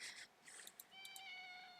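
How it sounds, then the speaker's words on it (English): Cat meowing in a horror video game, several short high-pitched meows and a longer drawn-out mew, fairly faint with no talking over it. "There's a cat."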